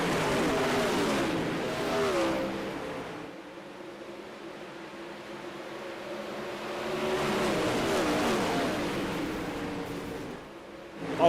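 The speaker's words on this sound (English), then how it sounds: "360 sprint cars, 14 of them, gonna get ready to go green flag racing. They're off and away." Fourteen 360 sprint cars racing on the Eldora dirt oval, engines droning faint and distant, swelling and fading as the pack passes around the track.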